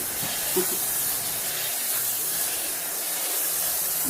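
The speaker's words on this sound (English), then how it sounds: "you want to get the mushrooms up in there and rinse them off as well. Use the sprayer." A kitchen sink sprayer hisses steadily as mushrooms are rinsed, a continuous broad rush of water at close range with small clatters underneath.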